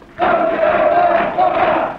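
A crowd greets visiting French trade unionists at an occupied factory in 1969, breaking out in loud massed cheering and shouting that starts abruptly and holds steady for the rest of the clip.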